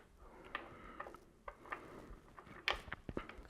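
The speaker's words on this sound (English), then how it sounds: "using the Hope tool to unscrew the non-drive side" A Hope tool unscrewing the non-drive side of a tight PF41 bottom bracket on a bicycle frame makes faint, sporadic metallic clicks and ticks, several sharp snaps spaced unevenly.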